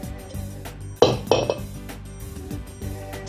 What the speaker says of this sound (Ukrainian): І зараз викладаємо шарами у цю каструлю спочатку моркву